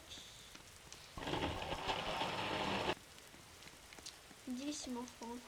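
Rain falls in the survival game 99 Nights in the Forest, a broad hiss rising for about two seconds mid-stretch over quiet ambience, with short tonal game chimes near the end.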